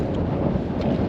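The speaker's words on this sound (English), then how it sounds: "Wind is picking up as well. It's often very windy on this col up here." Strong wind buffets the microphone in a continuous low roar on a mountain col in winter, steady and close with no other sounds.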